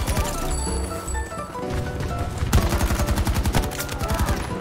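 Gunfire in the Battlefield video game: a rapid, evenly spaced automatic burst rattles loudly over busy, continuous game sound.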